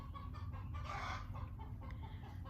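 A hen in a barn clucks after laying an egg, giving a run of throaty, rhythmic clucks with one louder squawking burst in the middle, fairly faint and slightly distant, with no talking.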